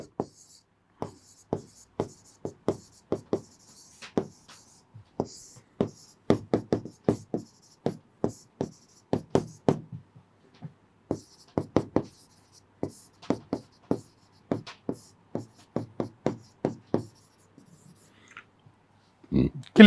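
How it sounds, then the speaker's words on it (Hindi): A pen scratching out notes in quick bursts of short strokes, close and crisp, pausing briefly between words across the whole stretch, with no talk over it. "इसमें मैं लिख देता हूं"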